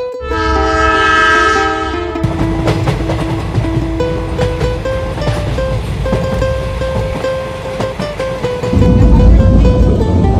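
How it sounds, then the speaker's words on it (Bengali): A passenger train runs toward Chittagong in the rain, its horn sounding loudly at the start before the continuous rumble and rattle of the moving carriages carries on, growing heavier near the end. "আমরা মা ছেলে এবং ট্রেনের সবাই মিলে ছুটে যাচ্ছি চট্টগ্রাম শহরের দিকে।"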